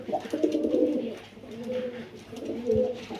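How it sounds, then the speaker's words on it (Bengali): A male Cobra Military pigeon coos nearby in soft, low, rolling phrases, repeated two or three times with brief pauses between. "এটা হলো কোবরা মিলিটারি কবুতর।"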